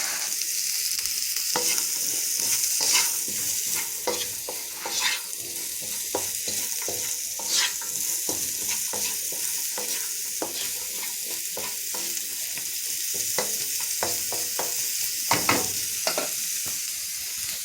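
Vegetables sizzle and fry in a pan with a steady hiss while a utensil stirs and scrapes through them in irregular clacks, close and continuous for the whole stretch.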